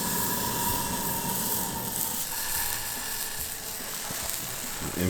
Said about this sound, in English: We're gonna melt the cheese into the pan.